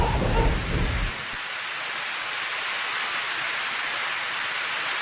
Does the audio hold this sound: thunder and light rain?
yes